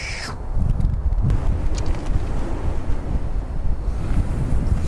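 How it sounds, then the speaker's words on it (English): Strong outdoor wind buffets the microphone with a loud, steady low rumble and gusting roar throughout, with no talking. "That wind is no joke."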